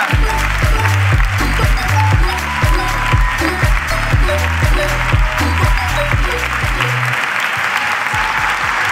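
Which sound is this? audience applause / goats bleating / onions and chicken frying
audience applause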